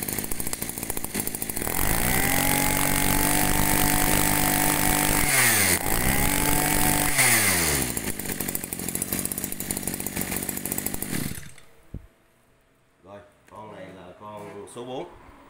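A petrol grass cutter engine runs loud and close with a steady high-revving buzz and a couple of brief dips. It cuts off after about eleven seconds, and a voice talks in the quiet that follows.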